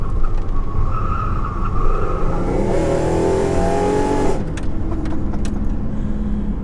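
A 1997 Chevrolet Camaro with new front suspension takes a corner while its engine drones steadily and the tires give a rising, sustained squeal midway, loud and close.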